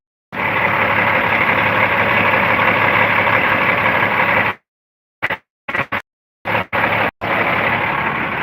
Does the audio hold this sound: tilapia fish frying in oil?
no